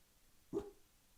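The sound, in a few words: dog barking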